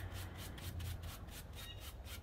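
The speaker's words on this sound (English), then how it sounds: "I'm going to just work this on my leg, on this denim." A single bevel broadhead stropped on denim jeans worn on the leg: quiet, steady rhythmic rubbing strokes in quick succession, a soft repeating swish with no talk.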